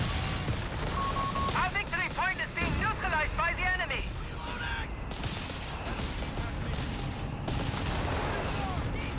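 Gunfire and battle noise from a Company of Heroes 3 multiplayer match, with sharp cracks and bursts of shots scattered throughout, plus chirping unit voice lines and faint game chatter in the mix.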